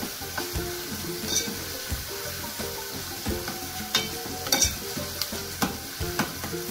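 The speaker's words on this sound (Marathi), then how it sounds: "टोमॅटो आणि कांदा छान मिक्स करून घ्यायचा आहे।" Chopped tomato and onion frying in a pan for a methi dish are stirred with repeated scraping strokes over a soft, continuous sizzle, close and fairly quiet, with no voices.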